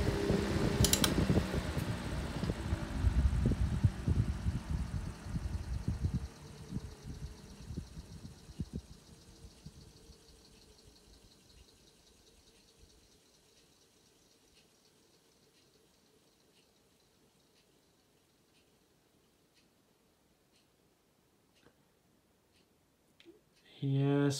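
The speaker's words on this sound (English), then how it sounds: "Spin down's not great, but it is a brush motor" 1920s GEC Freezor 16-inch desk fan with a brush motor, whirring strongly with clicking at first, then winding down gradually until near silence, with a brief clunk at the very end.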